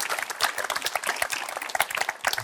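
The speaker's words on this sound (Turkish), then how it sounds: "Size alkışlar." Audience applause after a joke on a Turkish talk show about humor in relationships, a dense burst of many hands clapping steadily and fairly close throughout.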